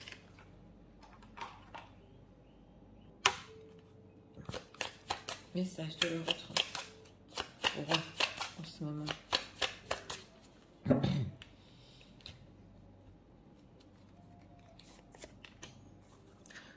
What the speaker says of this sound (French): Alors, on va prendre encore 2 cartes.